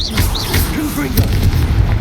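A Confringo explosive spell cast in Hogwarts Legacy bursts with booming, popping blasts amid busy game sounds, with voices and chanted tones weaving through the dense mix.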